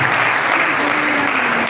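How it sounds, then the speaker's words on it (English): Sustained audience applause for a guest lecturer at a World Laboratory Day event, loud and continuous through the whole stretch, with a faint tonal hum beneath the clapping. "we want us to clap for her"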